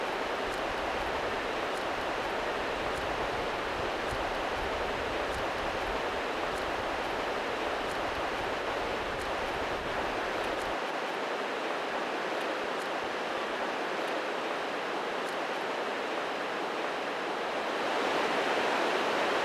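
Ocean surf rolling in as the tide rises, heard as a steady, loud broadband wash of waves with no pauses or speech.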